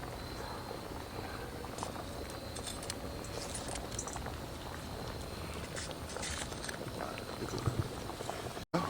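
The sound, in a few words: rice boiling and bubbling in a pot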